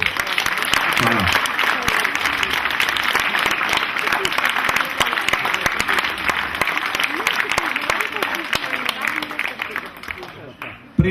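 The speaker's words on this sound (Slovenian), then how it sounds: "še en aplavz, prosim" Audience at the Kamfest 2010 closing speech clapping in a long, sustained round of applause, with a voice talking over it and occasional shouts near the end.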